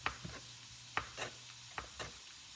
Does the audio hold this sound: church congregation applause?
no